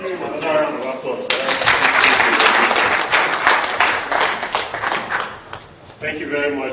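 Audience at a naval disaster management course bursts into applause after a speaker begins talking, a dense burst of clapping for about five seconds that tapers as a voice returns at the end.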